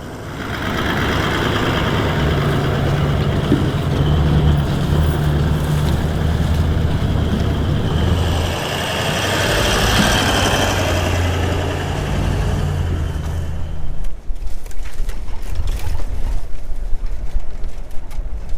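A 4x4 creeps along an offroad track in crawl control, its engine droning steadily at low speed with a sustained rumble, then quieting abruptly near the end to leave lighter ambient noise.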